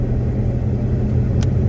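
A Ram truck engine starving for fuel from low fuel pressure gives a steady, loud, low rumble that holds constant throughout, with no clear revving.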